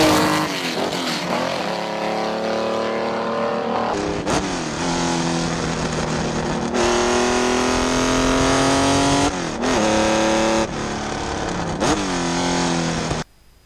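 A recreation 330 P4 racing sports car engine screams loudly up through the revs, dropping briefly at gear changes before climbing again, with a sharp cutoff near the end.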